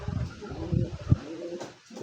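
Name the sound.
pearl-eye racing pigeon cooing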